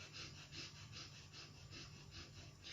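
Rapid, rhythmic fire breathing pumped through the nose and mouth during a breathing exercise, about a dozen quick even huffs, close and fairly quiet, with no talk.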